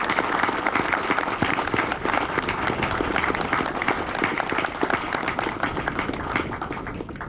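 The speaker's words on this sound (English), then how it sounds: "Let's give them a round of applause" Crowd applause honoring families at an 82nd Airborne Division retirement ceremony, dense rhythmic clapping from many hands outdoors, sustained and moderately loud throughout.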